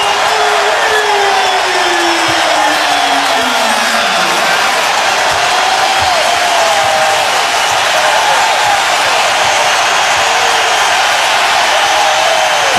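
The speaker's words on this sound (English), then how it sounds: "This crowd has absolutely erupted here in the third" A basketball arena crowd roars and cheers nonstop at a Celtics versus Lakers NBA Finals game, a dense, loud wall of voices and whoops that holds steady throughout, with a commentator's voice mixed in.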